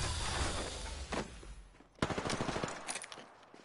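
Gunfire from the battle royale shooter Apex Legends comes in bursts of sharp shots, with a loud rapid volley partway through that keeps rattling to the end.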